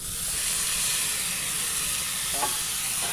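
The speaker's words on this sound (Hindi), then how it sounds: "अब मैं इसमें टमाटर डाल दे रही हूँ।" Chopped tomatoes hit lightly browned onions frying in a pan over a wood fire, giving a loud, continuous hiss of sizzling with no pauses.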